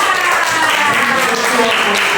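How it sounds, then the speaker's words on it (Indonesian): Students in a pharmacy chemistry class applaud a classmate, a brief, loud, continuous wash of clapping from many hands, with faint voices blended into the noise. "Tepuk tangan untuk Akbar"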